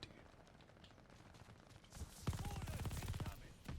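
MG 42 machine gun in Call of Duty Vanguard opening up in a rapid, steady burst about halfway through, loud and close, after a quieter stretch of background noise.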